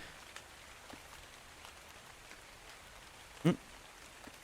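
Rain falls steadily in the video game ARK: Survival Evolved, a faint soft hiss with scattered drop ticks and one brief louder thump partway through.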